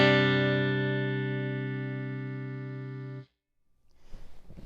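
A single distorted electric guitar chord, a beginner-friendly easy voicing, rings out loud and sustained, decays slowly for about three seconds, then cuts off abruptly, followed by faint handling noise.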